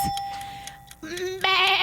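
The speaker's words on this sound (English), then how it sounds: "That's a sheep." A sheep bleat sound effect, played as an audio charades clue: a steady clock-like tone first, then two loud, wavering bleats close up, with no talk.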